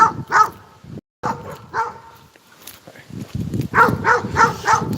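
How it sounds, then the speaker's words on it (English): Dogs bark close by in clusters, a couple of quick barks, a brief pause, then a busier run of rapid barking, with a voice speaking faintly in between. "there's dogs barking"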